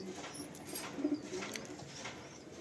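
Madrasi pigeons cooing softly in a full loft in Kolkata, a few low murmuring coos around the middle over faint ambient noise.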